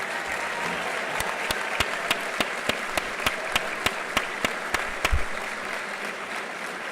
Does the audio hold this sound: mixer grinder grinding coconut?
no